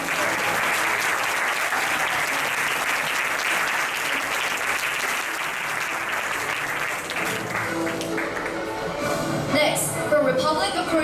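Steady, loud audience applause welcoming the Indonesian delegates at a youth leadership forum opening ceremony, continuous clapping that thins slightly toward the end with some voices underneath.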